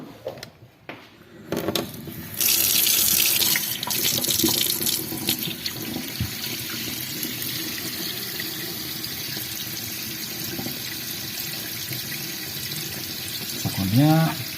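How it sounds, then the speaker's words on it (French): A kitchen tap runs into a sink, the water gushing steadily and loudly after a few quiet knocks, with a brief voice near the end. "on fait couler de l'eau"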